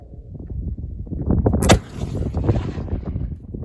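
A smoothbore gun fired at long range with a powder charge reduced by 20 grains gives one sharp, loud crack partway through, followed by a short fading rumble over a steady outdoor background.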